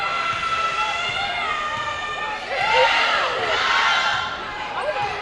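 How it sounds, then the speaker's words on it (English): A crowd cheering in a gym at a high school girls' basketball game, Penn Hills at Gateway, with shoes squeaking on the court and a swell of cheers midway under a commentator's voice. "Crowd comes to life a little bit as Gators a little momentum here starting the third frame"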